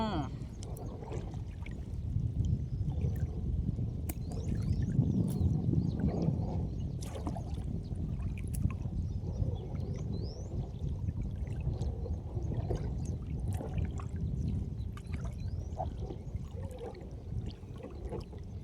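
A fishing boat being rowed on open water, with soft rhythmic paddle splashes and gentle water trickling through a low ambient hum, and someone talking over it throughout.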